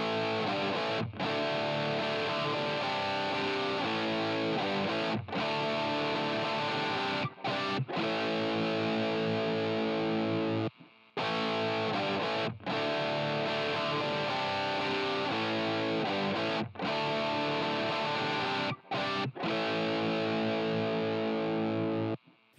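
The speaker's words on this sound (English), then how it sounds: "here's the tube drive on the 500x versus the legacy tube drive on the Helix." Electric guitar through a tube drive effect, comparing a 500x unit against the legacy tube drive on a Helix, played as loud sustained distorted chords with short pauses between phrases.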